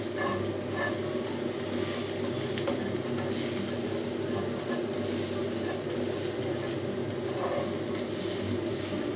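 Steady broadband sizzling and crackling of food frying in a cast iron pan, continuous and close, with no speech over it.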